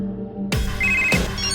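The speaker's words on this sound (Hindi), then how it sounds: "कहाँ फोन बज रहा है?" A telephone rings in a tense Hindi dubbed action film scene, a short bright electronic trill rising over loud dramatic score and heavy impact hits.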